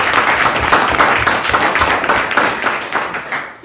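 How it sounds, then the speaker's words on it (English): An audience applauds at a talk at the Sedona Arts Center, with dense, steady clapping that fills the room and fades slightly toward the end. "Let's give them all a round of applause."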